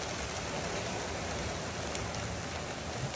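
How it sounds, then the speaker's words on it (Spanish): Steady rain falling over a golf course with palm trees, wind mixed in, forming a continuous broadband hiss that stays even and fairly loud throughout with no voices. "Pero miren cómo está eso con la lluvia."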